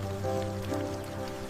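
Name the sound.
heavy rain falling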